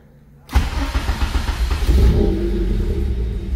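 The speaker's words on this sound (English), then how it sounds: "So now I'm about to show you the car runs and everything." A Honda Civic EF with a swapped K24 engine and new K-Pro ECU cranks and fires up after a moment of quiet, then settles into a loud, close, steady running rumble.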